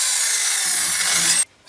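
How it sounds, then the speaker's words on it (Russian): A drill bores holes through a handmade elbow pad part, giving a steady high-pitched whine for about a second and a half before stopping abruptly. "Теперь можно просверлить остальные отверстия."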